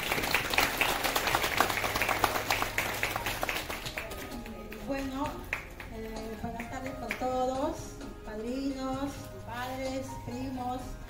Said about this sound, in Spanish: Por ese aplauso, por favor.